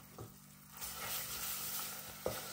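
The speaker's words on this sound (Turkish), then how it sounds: "Şimdi bunları böyle bir kavuracağım." Tomato paste sautéing in a pan with a steady, close sizzle and frying hiss, with a few clinks and scrapes of stirring, and no talk.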